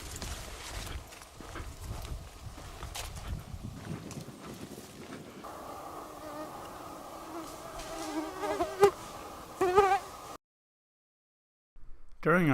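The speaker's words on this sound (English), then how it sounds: "During our time at Itasca, Karen found time to work on her mosquito dance." Mosquitoes buzz at Itasca State Park, a thin insect whine that rises and wavers over rustling and knocking sounds, grows clearer in the middle stretch, then cuts off into brief silence.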